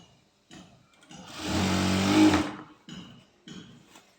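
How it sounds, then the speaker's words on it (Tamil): Sewing machine stitching a single-fold hem along the bottom border piece of a maxi skirt, one loud continuous run of about a second with short bursts of motor before and after, close and alone. "கீழே வந்து கரை பீஸுன்றதுனால நான் ஒரே ஒரு மடக்கு மட்டும் மடிச்சடிக்கிறேன்"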